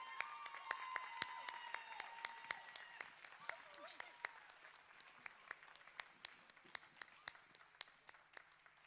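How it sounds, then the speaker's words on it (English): Scattered hand claps ring out from an audience at the Manifest 2013 closing ceremony, thinning to sparse individual claps, while people talk faintly underneath. "another round of applause real quick."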